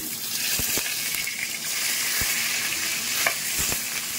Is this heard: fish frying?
yes